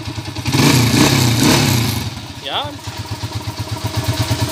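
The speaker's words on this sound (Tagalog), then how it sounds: "Smooth na ulit yung makina." A Honda TMX155 motorcycle converted to 175cc runs steadily nearby, its engine putting out an even, rhythmic idle chug throughout while people talk over it.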